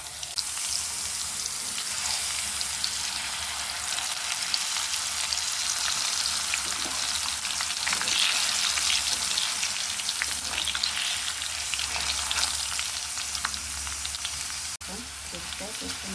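Thin-sliced potato chips dropped into hot oil give a loud, close, continuous sizzle and crackle that stays strong throughout with hardly any letup. No speech is heard.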